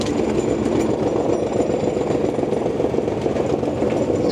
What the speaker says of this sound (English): you just crush it off first by holding it down with smooth roller, and then you go over and grind out all the root system